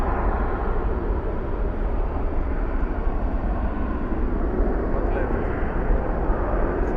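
A Qantas airliner at DFW airport at night gives a broad, steady engine roar, continuous and fairly loud throughout with no break or clear rise or fall.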